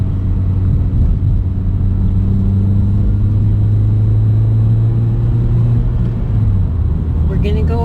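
A manual-transmission car accelerates in second gear, its engine hum rising steadily and droning loudly over continuous road rumble from inside the cabin.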